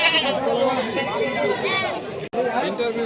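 A goat bleats repeatedly at a busy livestock market in Rustampur, Rajshahi, its cries mixed into constant crowd chatter and nearby talking.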